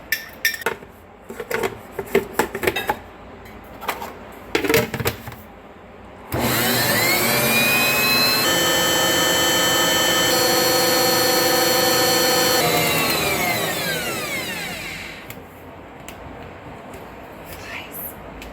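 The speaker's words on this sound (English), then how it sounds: "add my cultured cream to my mixer, and we're going to make some butter" A stand mixer churns cultured cream into butter, a loud, steady motor whir with a thin whine that rises and falls for about nine seconds. It follows a few scattered kitchen clatters and fades out near the end.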